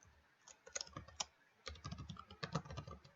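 Typing on a computer keyboard, close and alone: quick bursts of crisp key clicks with a brief pause in the middle before a steadier run of keystrokes.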